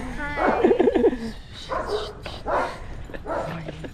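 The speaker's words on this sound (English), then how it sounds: "the dog barking" A dog barks and whimpers in a few short bursts, fairly close, with a person talking over parts of it.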